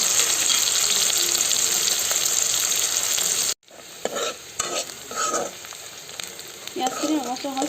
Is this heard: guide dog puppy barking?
no